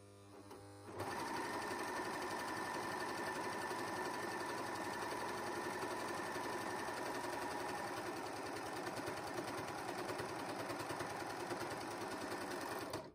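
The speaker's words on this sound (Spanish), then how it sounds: "nuestra máquina tiene un cuchillo el cual corta los bordes de nuestras telas. Debes coser con mucho cuidado." A Janome 8002D overlock machine, which has a blade that trims fabric edges, starts up and runs at a steady, fast, humming mechanical rhythm throughout, close and continuous.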